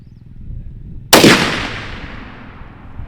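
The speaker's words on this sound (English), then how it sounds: "we've started sighting in Judah's rifle" A single loud rifle shot cracks out close by while a rifle is being sighted in, its sharp report decaying into a long fading echo over a low background rumble.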